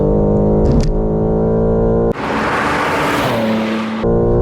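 A 2021 BMW G82 M4 Competition accelerates hard through the gears, its engine loud and close, broken by a sharp gearshift cut and a burst of tyre and road noise before the engine note returns.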